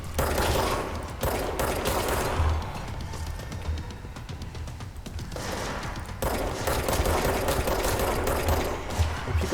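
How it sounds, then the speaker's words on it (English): Sustained automatic gunfire rattles at the player in the video game Control, loud dense volleys with a brief lull in the middle before heavy shooting resumes. "Are people shooting at me?"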